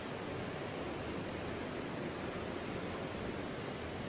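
A river flows steadily beside a campsite, a continuous broadband rush of water that stays even and close throughout, with no voices and no breaks.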